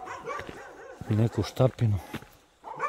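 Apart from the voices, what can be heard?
dogs barking at night near houses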